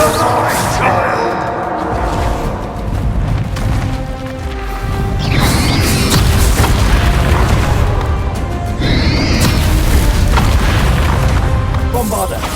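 Bombarda spell blasts in Hogwarts Legacy, loud booming bursts and crashing impacts over a dense, rumbling battle din, with voices shouting spell names between the blasts.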